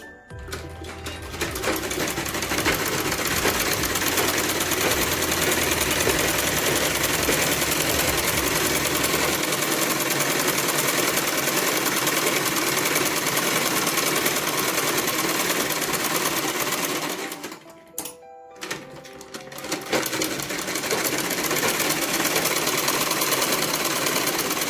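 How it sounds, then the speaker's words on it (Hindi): A sewing machine runs continuously, double-stitching a flared salwar, loud and steady for about seventeen seconds, then pausing briefly before resuming its rapid, even whirr. "मैंने डबल सिलाई लगा दी। अब नीचे भी मैं डबल सिलाई लगा दूंगी।"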